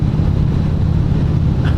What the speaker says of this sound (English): We're out on this lovely motorcycle ride